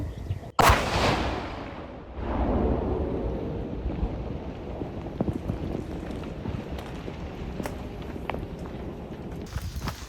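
Controlled detonation of Russian artillery shells by sappers in open steppe: one sharp, loud blast followed by a long rumbling roll and fading debris and wind noise, with scattered small impacts.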